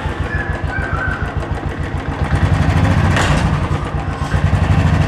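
A Royal Enfield Bullet motorcycle engine runs with a loud, close, rhythmic thump that grows slightly heavier partway through, with no voices over it.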